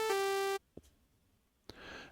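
Bitwig Polymer software synthesizer in its default patch plays one bright, buzzy sustained note that cuts off after about half a second, followed by quiet clicks.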